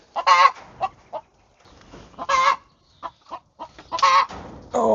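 Hens clucking and squawking loudly inside a chicken coop, with three bursts of harsh calls separated by softer, scattered clucks close by.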